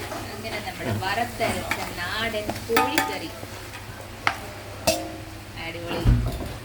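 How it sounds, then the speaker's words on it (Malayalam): Chicken and onions sizzle in a pan as a spoon stirs and scrapes, with a few loud clanks and a voice talking over it. "ആ കോഴി അങ്ങോട്ട് ഇട്ട് ആ സവാളയായിട്ട് അങ്ങോട്ട് ഇളക്കുക"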